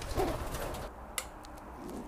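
Pigeons coo softly in a dark loft at night as they are caught by hand, a low murmur near the start over a quiet background, then a sharp brief knock.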